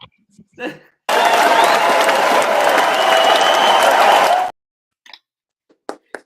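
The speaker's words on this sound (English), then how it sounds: "I need a round of applause." A round of applause and crowd cheering on a sports talk show, a dense burst of clapping lasting about three and a half seconds that starts and stops abruptly, bracketed by short snatches of speech.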